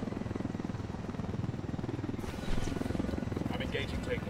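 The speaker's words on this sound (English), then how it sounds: "Let's take your helicopter." A steady, loud helicopter rotor thrums throughout in the video game Tom Clancy's Ghost Recon Wildlands, with the pitch and intensity rising partway through as it lifts off, and faint voices underneath.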